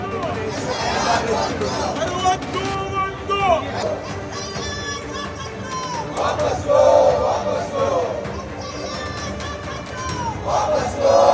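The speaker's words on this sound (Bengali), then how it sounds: "মকরদ্বারের সামনে বিরোধী সাংসদরা স্লোগান দিলেন আজও।" Opposition MPs chant slogans outside the Makar Dwar entrance of parliament, a loud crowd of voices shouting in unison, rising and falling in bursts throughout under general hubbub.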